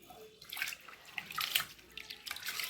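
Rice being rinsed by hand in water for pongal, with soft irregular sloshing and swishing splashes coming in short bursts, close and fairly quiet.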